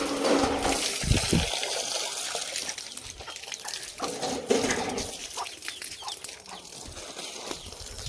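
Water from a pipe pouring onto garden plants around a small mango tree, a continuous splashing gush with uneven surges, some distant bird calls faintly in the background.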